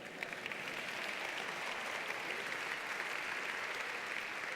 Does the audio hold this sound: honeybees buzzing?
no